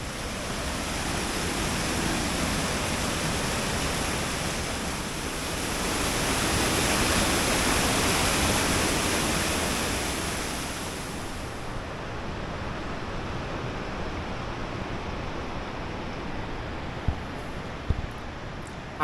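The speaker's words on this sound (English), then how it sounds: "You can probably hear Savage Falls." Savage Falls waterfall in Savage Gulf, heard from the South Rim Trail about a tenth of a mile away, gives a steady broadband rushing roar that fills the scene, with a couple of faint knocks near the end.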